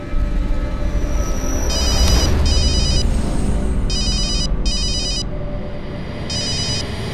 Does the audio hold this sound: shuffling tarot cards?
no